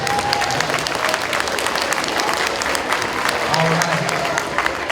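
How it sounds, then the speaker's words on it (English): A school assembly audience claps in a dense, continuous wash for about five seconds, steady and fairly loud, with murmuring voices and a couple of brief spoken words mixed in. "How about a little round of applause for all that came together?"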